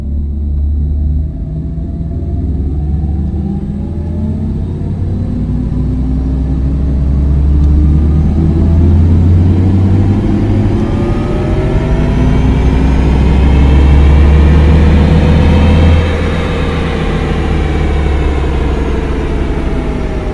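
An Audi RS e-tron GT electric car drives onto an expressway, a steady low rumble and road noise rising gradually with a whining tone that sweeps upward, continuous and close from inside the cabin with no talk.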